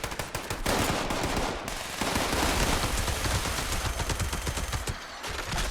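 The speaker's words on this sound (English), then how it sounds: "Next, we tested the Pepper Shaker using the laser magazine. It shoots perceptually slow compared to the standard magazine." Pepper Shaker gun firing with a laser magazine in the Fallout 76 video game, with rapid bursts of loud shots, a brief pause near the two-second mark, then continuous fire to the end.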